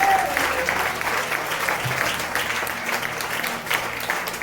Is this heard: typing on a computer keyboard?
no